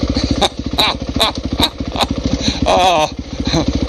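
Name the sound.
motorcycle riding on a wet trail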